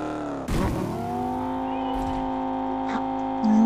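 A car engine drones steadily with a sustained tonal hum that jumps up at the start and holds, rising slightly near the end, close and fairly loud.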